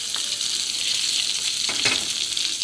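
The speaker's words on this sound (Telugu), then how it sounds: "పచ్చడిలో తాలింపు వేసేసుకొని మంచిగా కలిపేసుకోవాలి" A hot tempering of mustard seeds and dried chillies with curry leaves and turmeric poured into mint chutney gives a steady, bright sizzle with a couple of soft stirring knocks, close and fairly loud, and no talking.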